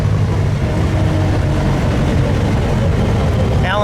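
A 1915 Scripps Booth Vitesse V8 runs cold while riding along, its engine droning low and continuous under heavy wind and road rumble, heard close from inside the car.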